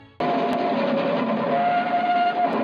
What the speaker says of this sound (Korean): 기차를 이렇게 가까이서 보다니.